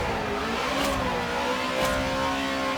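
A Buick GNX drag car in a racing game revs hard at launch, its engine a loud, steady drone rising slightly in pitch, with no one speaking.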